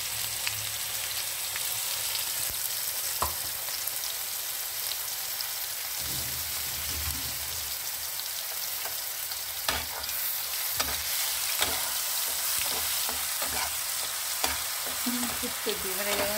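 Onions and masala fry in hot oil with a close, continuous rain-like crackle and spatter, joined by occasional taps and scrapes from stirring throughout.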